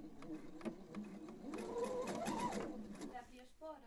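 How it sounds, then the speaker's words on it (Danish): A sewing machine stitches fabric laid edge to edge with a steady, close mechanical whir and rapid needle clatter, while someone talks over it. "og syr med cirka en trykfods bredde"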